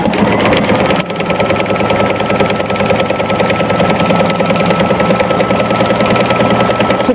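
An embroidery machine stitches an applique outline on Moda Grunge fabric, its needle hammering in a fast, loud, even mechanical rhythm with a brief hitch near the start.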